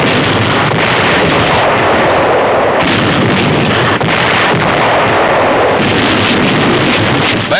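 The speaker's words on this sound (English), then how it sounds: "Yank artillery cracks down on a Nazi bastion in the harbor as point-blank firing razes the last" WWII newsreel of artillery firing point-blank on a fortified Nazi harbor bastion at Cherbourg, a dense continuous roar of heavy gunfire and blasts with repeated sharp cracks, loud and unbroken.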